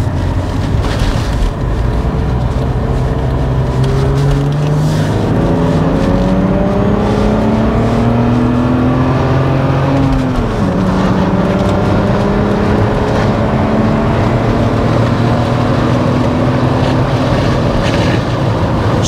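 BMW E34 six-cylinder engine running steadily and revving, its pitch climbing and falling in smooth sweeps, loud and close throughout with a continuous broad roar and no talk.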